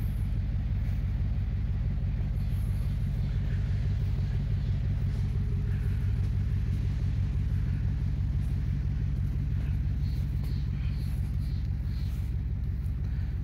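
A 1999 Dodge Durango engine idles with a steady low rumble, close and constant throughout with no talking.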